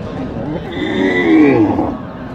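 A water buffalo at a farm gives a loud, close, drawn-out low moo that swells and fades over about a second, with faint background noise around it.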